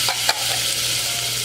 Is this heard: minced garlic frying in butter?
yes